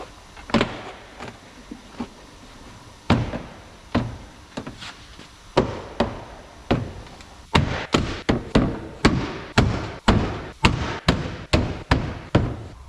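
Plastic door trim on a VW T5 van being pressed onto push clips, a long run of sharp thumps and snapping knocks, sparse at first and then coming in quick regular bursts, close and fairly loud with no talking.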